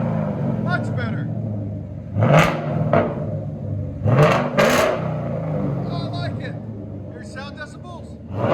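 Ford Mustang GT 5.0 V8 with an aftermarket exhaust revs hard in two loud bursts over a deep idling rumble, close by, with people chatting and reacting around the car.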